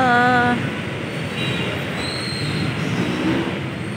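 A train at a station on the line toward Baclaran. A short high-pitched wheel squeal opens the scene, followed by a steady rolling rumble with fainter tonal squeaks, and no speech.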